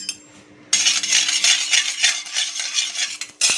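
Half a spoon of poppy seeds roasts in hot ghee in a pan while a spoon stirs them, making a steady close crackling sizzle broken up by scraping and clinking of metal.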